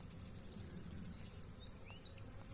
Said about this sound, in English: I've just noticed we've got a swarm of bees in our pomegranate.